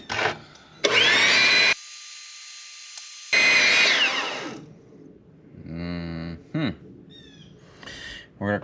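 A power tool runs a blade down in a workshop with a steady whining buzz in two loud bursts, followed by quieter clunks, creaks and brief squeaky tones.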